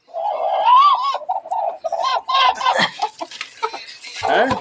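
Hens clucking and murmuring up close, a run of warbling clucks followed by sharper, choppy calls, loud and alone.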